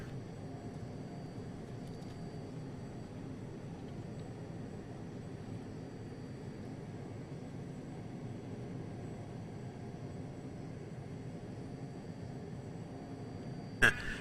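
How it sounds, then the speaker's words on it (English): An Embraer jet in a flight simulator game rolls out along the runway after touchdown, a faint, steady engine and rolling hum that ends with a brief click. "Nice touchdown, messy rollout, but cleaned it up by the time we got it to the end of the runway."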